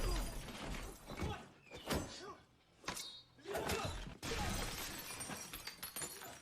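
Glass shatters repeatedly during a film fight scene in John Wick: Chapter 3, with crashing breaks, thuds and scuffles spread across a busy, loud stretch of action sound.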